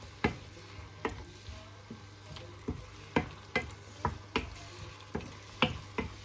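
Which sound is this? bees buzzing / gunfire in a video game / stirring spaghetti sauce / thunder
stirring spaghetti sauce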